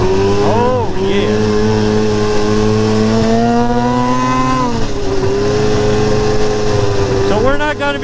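Snowmobile riding along the Fed Trail, its engine droning loud and close with rising and falling revs, and a rider's voice heard briefly over it.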